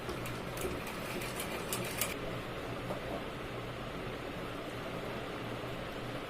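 A sewing machine stitches the joint of a button-placket blouse while the fabric is held taut. The needle rattles in quick bursts for the first two seconds, then settles into a steady close mechanical whir with no voices.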